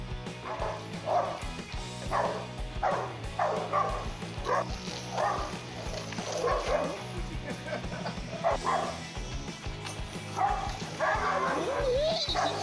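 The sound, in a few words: dog barking and whimpering at a goat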